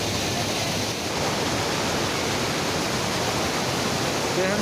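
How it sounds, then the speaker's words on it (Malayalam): Pulga waterfall near Grahan village outside Kasol in Himachal: a loud, continuous, broadband roar of falling water, close and unbroken throughout. "പുൽഗ വെള്ളച്ചാട്ടം"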